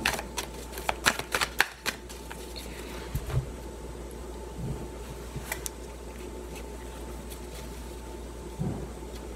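Tarot cards being shuffled and cut, a run of crisp riffling flutters and snaps bunched near the start, then softer scattered card slaps and taps over a faint steady hum, with no talking.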